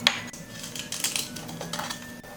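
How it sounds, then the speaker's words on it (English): Cake pans clatter and scrape briefly as they are handled, a few close metallic knocks and rattles over a short moment with no talking. "grease your cake pans and then line the bottom with parchment paper"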